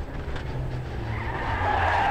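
Rally car at speed on a forest special stage at the Quit Forest Rally, engine roaring steadily and gravel scrabbling under the tyres, loud and close with a rising high-pitched whine toward the end.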